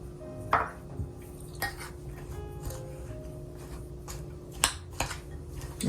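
Peanut streusel being mixed with melted butter in a bowl for banana bread: scattered soft clinks and scrapes of a utensil against the bowl, with a few sharper knocks, close and fairly quiet over a low steady hum.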